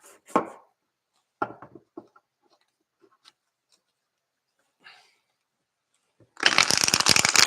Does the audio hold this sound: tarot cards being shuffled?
yes